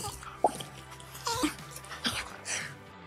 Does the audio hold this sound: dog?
yes